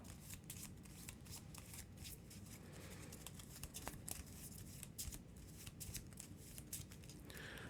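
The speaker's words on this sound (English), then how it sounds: "shuffle them up. And then randomly deal 1 face-down card beneath each location." A deck of cards for an Arkham Horror card game is shuffled repeatedly, a continuous close riffling and flicking with soft rhythmic slaps, fairly quiet and without talk.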